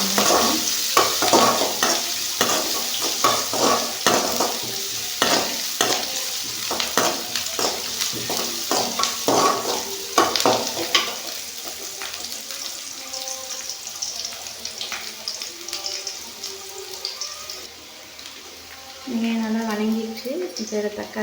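Onions frying in a pan for a Tamil prawn roast, loud rhythmic scraping stirs over a sizzle that fade into quieter frying, with a brief burst near the end that sounds like running water.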